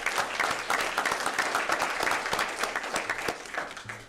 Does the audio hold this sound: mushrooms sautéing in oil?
no